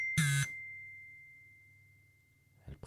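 An email notification chime: one short, bright electronic tone with a ringing tail that fades slowly, heard alone in a quiet setting.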